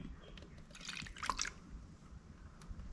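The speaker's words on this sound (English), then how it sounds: "Let's pour this in there now that we've got it all mixed up" Mixed automotive paint for a 1959 Dodge Coronet pours through a strainer into a spray gun cup, giving a brief faint liquid trickle with small drips, close and quiet.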